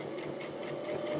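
Sewing machine stitching a bandana headband in a single forward direction, a steady fast whir running continuously and fairly close throughout, with no talking.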